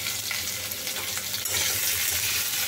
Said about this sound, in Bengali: আলু গাজর এগুলো ভালো করে ভেজে নিচ্ছি